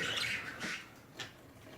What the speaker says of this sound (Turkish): Kuş ötüyor.